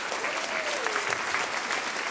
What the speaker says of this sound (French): je vous demande d'applaudir Arnaud Torti qui a fait la sonorisation ce soir avec nous